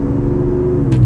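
Giveaway truck engine revving, a close, loud, steady rumbling drone held throughout the short moment with no talk.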